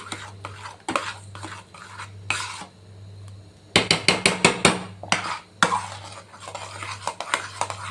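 Pumpkin and paneer vegetable being stirred continuously in a pan over a full gas flame, with repeated scraping and knocking of a spoon against the pan in irregular bursts, close and moderately loud, no talking.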